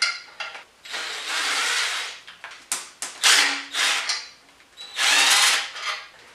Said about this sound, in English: They're 1/2 inch and they'll easily come out with a torque wrench.